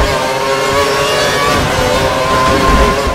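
A Formula 1 car engine screams at high revs in the F1 2012 video game at Monaco, a steady, loud, buzzing drone that holds throughout with no break.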